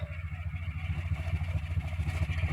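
Steady motor drone of a flying bike in a video game, a continuous low buzzing hum with slight pulsing, close and alone without talk.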